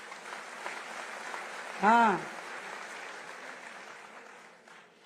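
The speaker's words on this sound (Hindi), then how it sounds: "तालियां धीमे है भाई।" An audience at an event with Delhi Chief Minister Rekha Gupta gives soft, continuous applause that stays faint and steady throughout, and a voice briefly cuts in partway through.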